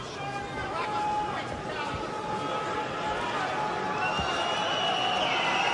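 A boxing arena crowd on its feet at a Vitali Klitschko vs Manuel Charr heavyweight fight, a dense, steady roar of cheering and chatter that holds at full level throughout, with a commentator talking over it.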